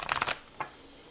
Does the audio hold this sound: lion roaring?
no